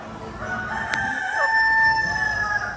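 A rooster crows one long drawn-out call at a chicken and farm animal auction, loud and close, with other fowl faintly clucking and a noisy crowd murmur underneath.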